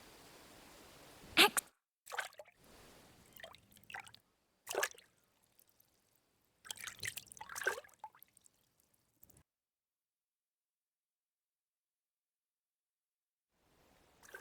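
Water sloshes and splashes in a bath in Kingdom Come Deliverance II, coming in several short close bursts with quiet gaps, then near silence for the last few seconds.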